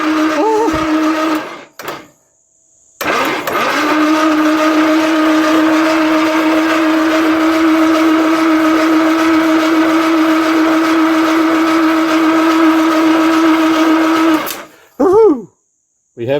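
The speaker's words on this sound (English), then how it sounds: "I'm just going to touch it down to this solenoid down here. There. And see if we get a crank." A 1970 Jaguar XJ6 Series 1 engine cranks via a jumped starter solenoid, a loud steady whirring drone with tonal whine, starting after short bursts and running for about eleven seconds before stopping.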